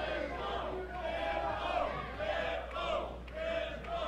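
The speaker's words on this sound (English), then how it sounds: "the crowd is chanting Pitbull" A wrestling crowd chanting a wrestler's name in rhythmic, rising-and-falling bursts, heard from a distance with a low hum underneath.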